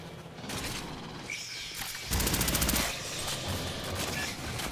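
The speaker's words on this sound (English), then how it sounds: "I love the machine gun" A machine gun fires in the video game Aliens Fireteam Elite as one loud, rapid burst of shots midway through, set against busy mechanical game noise.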